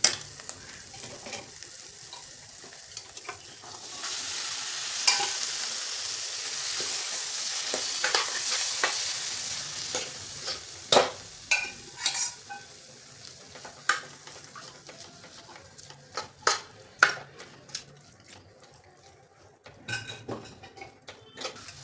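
Cooked whole pigeon peas being stirred into frying masala with coriander in a pan: a soft continuous sizzle with repeated scraping and clinking spoon strokes against the pot, close and without talk.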